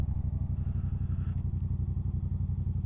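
A motorcycle on an early morning ride toward Kennesaw Mountain Park on a chilly fall day, its engine a steady throbbing rumble with rhythmic low pulses, close and constant, with no talk.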